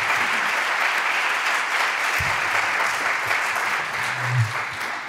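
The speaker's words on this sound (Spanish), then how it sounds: "Un buen aplauso." Audience applause in a lecture hall greets a speaker at a talk, steady dense clapping throughout with no talk over it.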